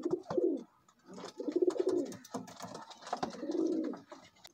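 A pair of Kasuri Kamagar pigeons coo in soft, rolling bursts, several in a row with short pauses, close and fairly quiet.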